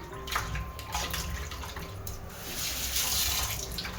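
Raw chicken being washed under a running tap in a home kitchen, a steady close stream of water with splashing bursts as the pieces are handled, no talk.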